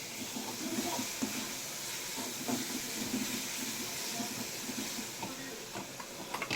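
Chopped onions frying in a pan for chicken curry, a steady loud sizzle and hiss running throughout with faint clinks.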